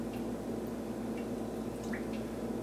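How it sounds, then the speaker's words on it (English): A zipper bag holding fish fillets is pushed down into water, making faint, soft drips and small liquid squishes over a quiet background. "I'm just going to basically push the bag down, keeping the zipper up all times so that the air can keep on escaping."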